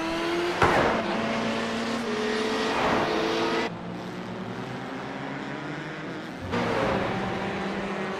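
Porsche race car running a low downforce setup at Montreal in a racing video game, its engine revving up and down in loud continuous pulls, with a sharp drop in level midway before the roar returns.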